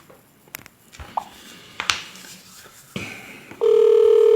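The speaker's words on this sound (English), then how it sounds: "I think it's ringing." A telephone call tone sounds after a few faint clicks and taps, ending in a loud, steady electronic ringing tone that holds for the final second, with no talk over it.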